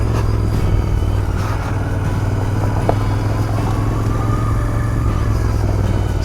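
A motorcycle engine drones steadily and loudly at constant speed while riding a muddy, loose gravel trail, with a low rumbling hum and faint crunches from the tires, heard close throughout.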